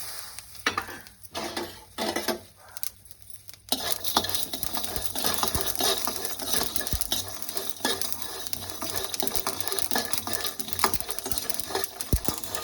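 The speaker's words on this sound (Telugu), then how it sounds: "ఇవన్నీ కూడా వేసుకొని వేయించుకోవాలి" Pan scraping and light crackling as fenugreek seeds, cardamom, cloves and cinnamon are stirred and dry-roasted, quieter at first, then a steady dense rustle throughout.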